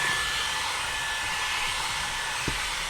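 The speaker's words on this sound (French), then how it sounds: "je viens de fixer l'embout, je le mets en mode turbo, on va frotter en même temps avec" A Levoit LVAC 200 stick vacuum runs in turbo mode with a steady, high-pitched whine and airy rush at moderate level. Low thumps from the head being rubbed across the floor come through, and one knock sounds near the end.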